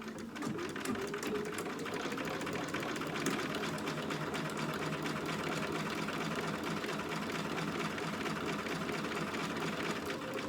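A sewing machine top stitches along the top of a dog outfit bodice with a 1/8 inch edge and 3.5 stitch length, running as a steady, unbroken mechanical whir for the whole stretch.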